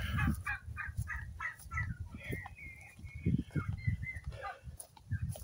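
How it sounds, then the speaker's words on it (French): A farmyard turkey gobbling among poultry, a run of loud, rapid, warbling gobbles repeated in bursts close by, with faint chatter from other birds behind. "Il est où le dindon?"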